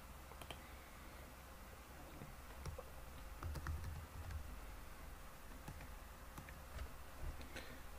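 Faint, sparse keyboard taps while entering an email address into a WordPress plugin registration form, heard alone in a quiet room with irregular gaps between keystrokes.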